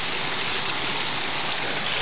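Strong, steady rush of running water, mineral water poured to wash a baby, a dense, even hiss that continues unbroken for the whole two seconds with no voices over it.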